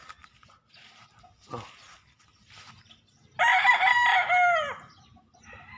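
A young gamefowl stag crows once, loud and close, a long harmonic cry that rises and trails off after a few quiet clucks and rustles.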